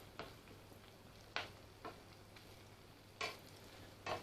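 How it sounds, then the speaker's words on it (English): Scallops with pancetta and chili sizzle faintly in butter in a pan, a quiet soft frying hiss broken by a few sharp clinks and pops spaced through the clip. "starting to sizzle nicely now"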